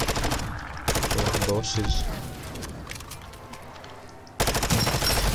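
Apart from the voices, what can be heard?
SMG gunfire in the video game MW3 Zombies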